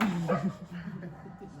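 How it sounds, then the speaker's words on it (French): A dog whimpers and yips in short high bursts, close and moderately loud, with a faint background murmur. "C'est un chien modèle, hein, Choupi"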